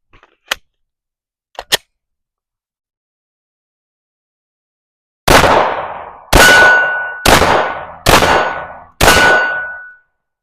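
A Glock 19X MOS pistol fitted with an Agency Arms 417 compensator and loaded with 115 grain ammunition fires five sharp, loud shots in quick succession, each ringing briefly, after two faint metallic clicks of handling.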